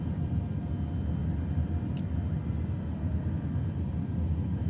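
Steady airliner engine roar in a flight simulator with the left engine disabled, a continuous loud low rumble holding evenly throughout with no talk.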